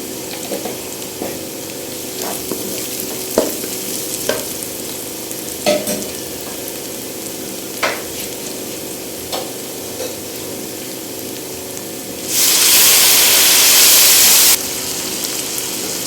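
Cumin sizzles softly in hot oil in a pan for a chana dal gosht, with occasional spoon taps and scrapes as it is stirred, then a loud hissing burst of a few seconds near the end.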